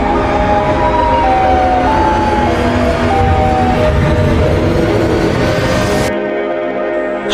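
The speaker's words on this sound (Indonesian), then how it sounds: "tiba-tiba kalian mendengar suara sirene yang cukup keras di kedalaman hutan" A loud, wailing siren in a deep forest sweeps up and down in pitch for several seconds, then cuts off abruptly, leaving a faint hum.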